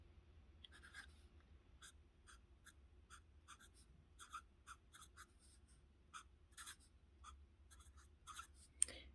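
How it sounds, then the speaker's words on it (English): A Sailor Pro Gear 21k fountain pen with an architect hybrid grind nib writes block capitals in quick, faint, scratchy strokes, close up and alone in a quiet room, coming in an uneven rhythm of short bursts. "architects are generally used for writing in all caps, and I will do that also"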